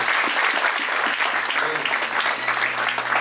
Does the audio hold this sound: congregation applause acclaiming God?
yes